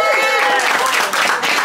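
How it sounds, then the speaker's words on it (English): Loud, dense applause from a crowd at a film anniversary event, continuous clapping filling the room with some cheering voices mixed in. "Let's all applaud Matt."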